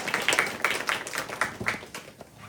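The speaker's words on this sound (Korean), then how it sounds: "박수로 축하하겠습니다." Applause at a Christmas church service held at a military unit's chapel, distinct rhythmic claps from a modest congregation, close and clear, gradually tapering off.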